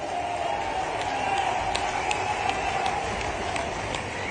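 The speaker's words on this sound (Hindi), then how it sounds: "आप जोरदार ताली बजाओ तो आपकी बात पे विचार करता हूं।" A political rally crowd claps steadily throughout, a dense, sustained wash of applause with a few sharper individual claps standing out, loud and close, mixed with a crowd murmur.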